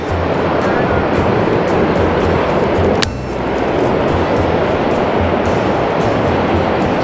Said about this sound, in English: The water is shooting down from such a height.